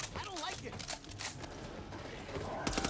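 Gunfire from the Back 4 Blood co-op shooter crackles in scattered bursts under a busy mix of game noise and talking voices.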